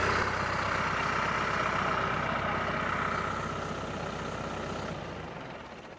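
A farm tractor's diesel engine idles just after a regen cycle, a steady broad rumble held at constant loudness before easing off slightly toward the end, with no talking.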